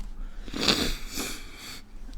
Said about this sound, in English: Apologies for the sniffles.